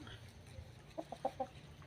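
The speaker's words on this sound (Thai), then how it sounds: "วันนี้พามาดูไก่หนุ่มครับ" A young rooster, a fighting-cock line, gives a few short, soft clucking calls in a quick cluster, fairly close but quiet against faint background noise.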